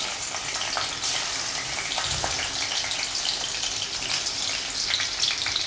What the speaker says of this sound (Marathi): तेल तापत ठेवलेले त्यामध्ये प्रथम लसूण घालून घ्यायचा